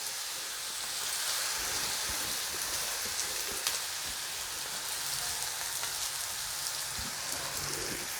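Grated raw mango, about half a fruit, fries in hot oil in a home kitchen, giving a steady, close, even sizzle with crackling pops that runs throughout without talk.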